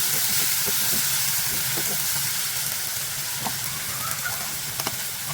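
Chopped tomatoes hiss and sizzle steadily in a pan of fried onions while cooking an egg bhuna, a continuous close frying crackle with faint stirring taps.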